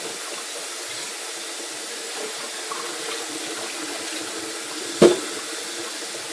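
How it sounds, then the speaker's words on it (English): Tap water runs continuously over the outside of a hookah base at a sink, making a steady, even rush with one brief knock near the end. "make sure that you let the water run all over the outsides of the base as well"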